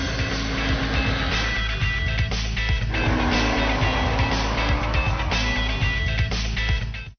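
A Kawasaki Ninja ZX14 sport bike with an almost 1,400 cc engine, a loud, steady engine roar holding on without a break and rising and falling slightly in pitch as the speed shifts.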